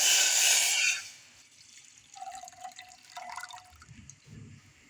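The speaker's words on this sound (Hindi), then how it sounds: "अब इसमें हम 1 कप भर के पानी डालेंगे।" Water pours into a cooking pot on a lit stove to make jalebi syrup. It starts as a loud, close gush, then settles into softer trickling and dripping.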